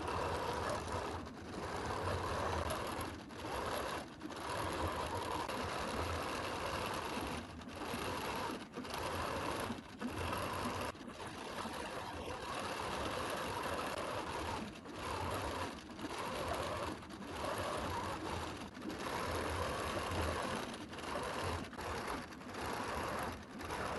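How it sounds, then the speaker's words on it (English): Sewing machine stitching a design from pattern software, a continuous close mechanical whir with rapid needle rhythm, interrupted by several short pauses over a long run. "pull up my bobbin and click sew"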